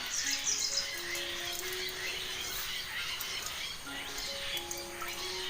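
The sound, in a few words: birds calling near the house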